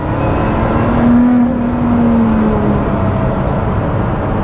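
A Lotus Exige Sport 390 Final Edition being driven gives a loud, steady engine drone with a smooth rise and fall in pitch, heard from inside the car without talk.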